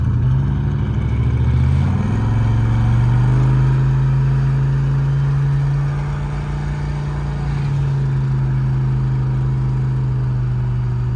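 A turbocharged police car pulls hard at half throttle in third gear, its engine roaring loud and close with a steady rising drone that holds for the whole stretch.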